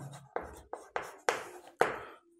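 Chalk or marker strokes scraping across a board in a Class 5 math lesson, five separate bursts in quick succession, each starting sharply and trailing off, with no talk over them.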